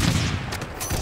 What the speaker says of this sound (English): They look like they're sniping at us.